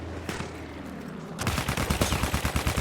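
Gunfire in the Battlefield 1 video game starts after a quieter stretch and turns into a rapid run of sharp, evenly spaced automatic shots that stay fairly close.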